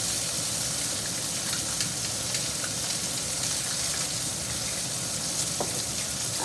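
Country fried steak sizzles and spatters steadily in a hot pan of oil, a dense, continuous frying hiss with occasional crackles, close and fairly loud, with no talking.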